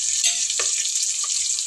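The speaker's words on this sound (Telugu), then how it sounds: "బాగా ఎర్ర వేయించాలి ఉల్లిగడ్డలు." Onions fry in hot oil for bagara rice, giving a steady, close sizzle with a brief stirring scrape partway through.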